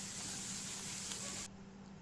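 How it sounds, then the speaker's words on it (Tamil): Onions sautéing in a pan for a spicy masala brinjal fry give a steady, faint, close sizzling hiss that drops abruptly softer near the end, with no talk. "இந்த வெங்காயம் ஒரு 2 நிமிஷம் வரலும் வதங்க விட்டுருங்க"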